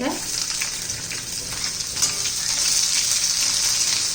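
Garlic fries in oil in a pan for a garlic chutney, giving a steady, close, bright sizzle that grows slightly louder toward the end.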